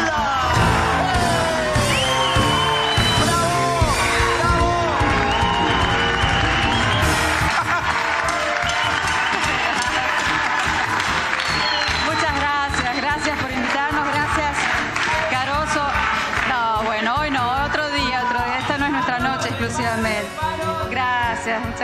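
Studio audience on a TV variety show greeting a duo, with loud sustained cheering, whoops and applause mixed with music, dense and continuous throughout.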